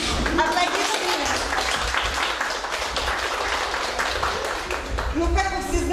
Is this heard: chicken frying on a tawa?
no